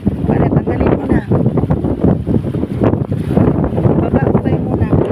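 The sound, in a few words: strong wind at a fishing spot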